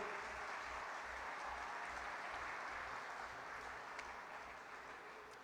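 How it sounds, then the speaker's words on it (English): An audience applauds at a formal coronation ceremony honoring the 2026 King of Engineers, a steady wash of clapping that stays even and sustained, slowly easing off toward the end. "Let's give a round of applause to our 2026 King of Engineers"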